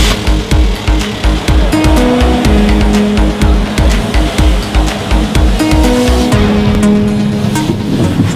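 Car on a test drive, heard from inside as a continuous engine and road rumble with rhythmic thumping bumps and shifting engine pitch, loud and close, without anyone talking.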